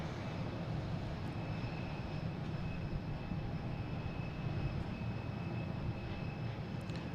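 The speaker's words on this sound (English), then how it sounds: "Here's American Airlines Flight 2278 coming in from Chicago." An American Airlines jet arriving from Chicago on approach to Boston Logan, a faint, steady engine rumble and hiss heard from a distance, continuous throughout with no voices.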